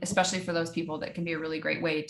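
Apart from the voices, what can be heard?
None of the usual background noises is heard.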